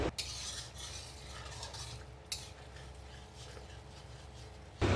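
Tomato puree and tomato sauce mixture is stirred into spices frying for a Bengali katla fish kalia, with a scraping stir over soft sizzling, a brief utensil clank midway and another at the end.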